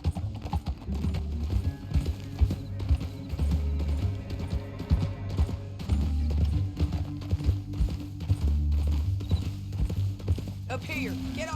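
Horse hooves clip-clop in a steady trotting rhythm in Red Dead Redemption 2, with people talking over the hoofbeats throughout.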